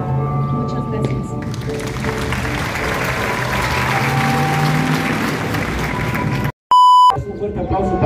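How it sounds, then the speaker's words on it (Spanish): An audience applauds young Semana Santa organisers at a press conference, steady sustained clapping under a voice with music, cut off near the end by a loud electronic beep tone. "Un fuerte aplauso para todos estos jóvenes"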